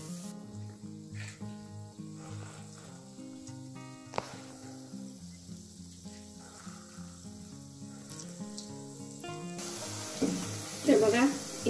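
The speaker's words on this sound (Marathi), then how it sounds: "आता हे वडे आपण काढून घेऊ आणि असेच सर्व जे वडे आहेत ते तळून घेऊ।" Dahi vada lentil fritters fry in oil with a soft, steady sizzle under melodic background music. The bubbling grows louder and busier toward the end.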